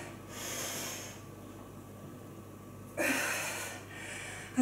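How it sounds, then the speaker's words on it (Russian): A nasal inhale during a post-workout cooldown stretch, a soft airy hiss of breath that swells into a louder, close sniffing draw near the end, with no talking. "Носом вдох."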